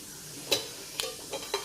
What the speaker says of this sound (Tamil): அது பொரிஞ்சுக்கிட்டு இருக்கட்டும்